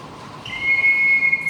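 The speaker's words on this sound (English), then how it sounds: "that's how I decided to make these several whistles in one, and they sound like" A steady high whistled tone from a clay whistle, several voices blending into one nearly even note, sustained and fairly loud with no talking.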